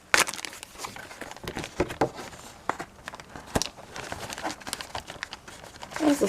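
Plastic packaging on craft supplies crinkles and rustles in close, irregular bursts during unpacking, with scattered handling noises in between.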